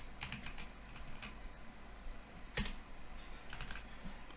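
Quiet tapping on a computer keyboard while entering a phone number into an Excel spreadsheet, a few soft, irregular key clicks with a sharper keystroke near the middle.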